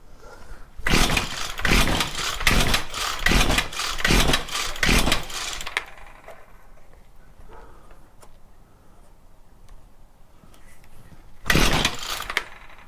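A Stihl FS94 string trimmer's small two-stroke engine revs hard in repeated bursts, loud and close, then drops to a low idle before one more sharp full-throttle rev near the end.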